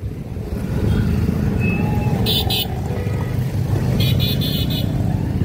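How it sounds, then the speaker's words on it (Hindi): Heavy road traffic with cars and motorcycles rumbles steadily and close by in a busy street, engines droning continuously with a couple of brief horn toots cutting through. "यार बहुत ट्रैफिक है यार"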